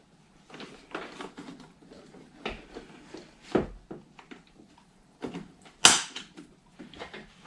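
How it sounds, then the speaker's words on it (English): A series of plastic clicks, pops and scraping snaps, irregular and close, ending in a sharp loud crack as a Nissan NV200 van door panel comes loose. "And there's my door panel off."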